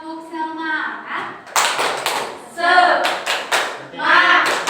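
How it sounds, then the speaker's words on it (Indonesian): In a classroom, a teacher and pupils perform a rhythmic clapping chant, short bursts of group hand claps alternating with spoken and chanted voices, close and lively. "Kita tepuk semangat ya."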